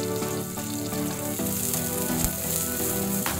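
Chopped onions and minced garlic sautéing in a pan, a loud, steady sizzle and crackle of frying that runs continuously and close up, with no voices.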